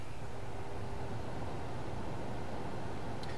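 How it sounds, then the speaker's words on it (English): A quiet replacement cooling fan inside an MFJ-4125P power supply runs with a steady, soft broadband whoosh and a faint hum, held close to the microphone with no speech. "If you could hear anything, that's the sound of the fan."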